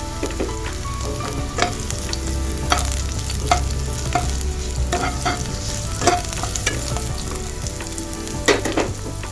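Onions sizzling and frying in a pan for Assamese arhar dal, a steady dense crackle with repeated stirring scrapes and clinks of a spoon against the pan, close and continuous, with no voices.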